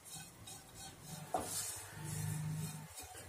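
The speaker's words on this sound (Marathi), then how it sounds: "सोनेरी रंग येईपर्यंतच खोबरं भाजून घ्यायचंय।" Grated coconut dry-roasting in a pan without oil, with quiet scraping stir strokes, a single sharp utensil clink against the pan, and a low background hiss.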